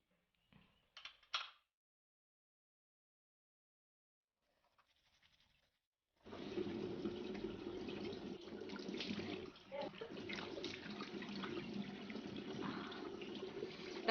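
Cold tap water runs steadily into a bathroom sink after a few quiet clicks and knocks, a close, continuous splashing rush that holds to the end.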